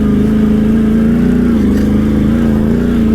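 A Can-Am Outlander 800 big-bore ATV engine runs loud and close, a steady throaty drone with slight rises and dips in pitch as the throttle is worked, with no voices.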